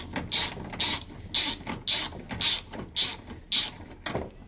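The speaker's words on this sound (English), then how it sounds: "get the ratchet. So, feed that through there onto the 8" A ratchet undoing a small 8mm bolt on a car fuel pump, eight evenly spaced clicking bursts in a steady rhythm, close and clear.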